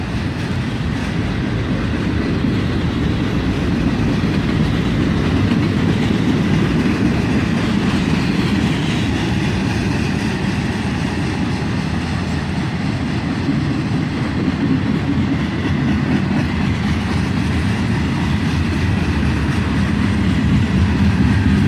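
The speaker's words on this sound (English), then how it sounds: "Mostly tank cars and covered hoppers on this train." Long freight train of tank cars and covered hoppers crossing a bridge nearby, a constant loud rumble with repeating wheel clatter that swells and eases slightly as the cars pass.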